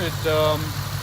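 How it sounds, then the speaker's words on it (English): The engine of a 2010 BMW 550i GT runs with a steady, low idle hum that fills the clip, while a voice talks over it. "The engine seems to be running smoother."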